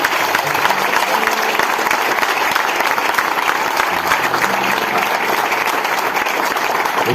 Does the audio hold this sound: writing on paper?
no